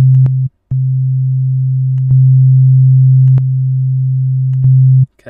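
Loud, steady low synthesizer tone from Ableton Operator in FM mode, holding a pure hum broken by a few short gaps and clicks as it is retriggered, with no voices.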